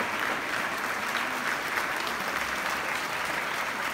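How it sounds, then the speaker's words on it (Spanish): A large audience applauds at a secondary school graduation ceremony, the clapping steady, dense and sustained, filling the hall for several seconds. "se les pide un fuerte aplauso a cada uno de ellos"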